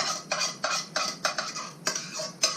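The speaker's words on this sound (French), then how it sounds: "je vais mettre ma sauce tomate" Utensil clinks and scrapes in a pan as tomato sauce goes in for stuffed squid, about eight quick, evenly spaced metallic taps close by with no talk.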